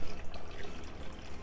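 Water is poured into a drink, a soft liquid trickle and splash heard close and fairly faint against a light background hiss, with no talking.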